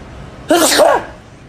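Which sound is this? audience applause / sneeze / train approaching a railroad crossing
sneeze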